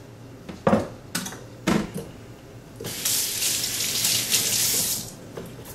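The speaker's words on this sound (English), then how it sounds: "So I had to wash my hands real quick." Hands washed under a running kitchen tap while cooking, with a few clinks and knocks first, then a steady close rush of water splashing into the sink for the last few seconds.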